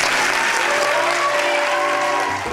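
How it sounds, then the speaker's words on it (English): A crowd at a persimmon festival queen pageant claps steadily for the contestants, a dense, even wash of applause that drops off at the very end. "Let's give them a round of applause"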